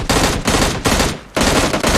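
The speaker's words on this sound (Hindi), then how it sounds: "बंदे, गाड़ी और सज्जन पुरुष सब पे गोलियां चलाई जाती हैं।" Gunfire in the battle royale video game PUBG Lite, loud close automatic bursts in a rapid rhythm, three or four sustained volleys separated by brief gaps, with no talking.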